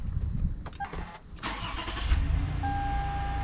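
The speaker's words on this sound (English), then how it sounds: "So I'm going to start up the vehicle." A 2012 Toyota Highlander engine cranks briefly and fires, then settles into a low, steady idle, heard up close with a faint high chime tone over the rumble. No voices are present.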